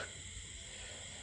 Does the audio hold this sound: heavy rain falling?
no